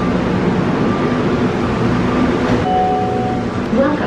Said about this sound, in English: Welcome aboard the plane train.